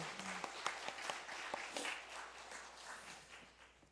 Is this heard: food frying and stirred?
no